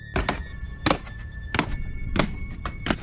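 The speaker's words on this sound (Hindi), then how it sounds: "ऐसा लग रहा था कि कोई सीढ़ियाँ चढ़कर टेरेस की तरफ आ रहा है" Five heavy, evenly spaced footfall thunks, like someone climbing stairs toward a terrace at night, each a dull close thud with a faint background hum and no voices.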